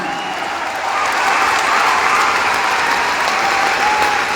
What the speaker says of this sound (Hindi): मैं चाहता हूं दोनों हाथ ऊपर करके एक जोरदार और शानदार तालियां होनी चाहिए